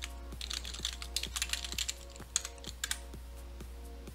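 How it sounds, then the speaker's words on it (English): Quick bursts of keystrokes tap on a computer keyboard while entering a Windows 7 username, irregular clicks close up over a low steady hum, with no talking. "type in my username here."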